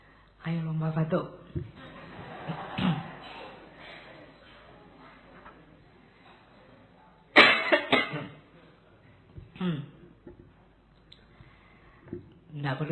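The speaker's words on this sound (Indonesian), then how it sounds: "Ayo lomba batuk." Several short, sharp coughs erupt in a talk setting during a playful coughing contest, scattered through the clip with one loud burst near the middle, alongside speech and soft chuckling.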